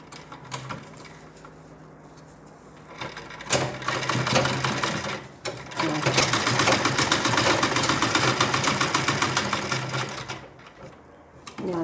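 A sewing machine stitches the seam of a designer sleeve, loud and close, starting in short bursts and then running in one long steady whirring stretch before slowing to a stop.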